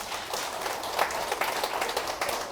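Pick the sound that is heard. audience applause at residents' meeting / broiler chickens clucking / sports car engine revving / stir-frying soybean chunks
audience applause at residents' meeting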